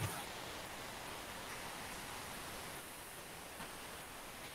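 Steady rain falls outside during an online ecology class, a constant broadband hiss that fills the whole clip at moderate level with no talking over it.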